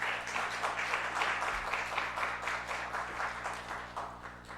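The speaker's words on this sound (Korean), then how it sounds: "우리 큰 박수로 모시도록 하겠습니다" Sustained applause from a church congregation during a Sunday afternoon service, welcoming a visiting professor to the pulpit; steady dense clapping fills the room throughout, fading slightly at the end.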